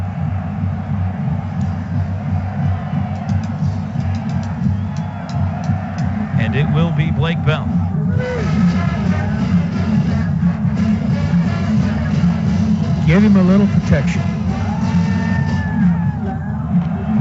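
A stadium crowd at the 2013 Oklahoma at Oklahoma State football game roars as a steady, dense rumble beneath continuous radio play-by-play commentary, rising slightly toward the end.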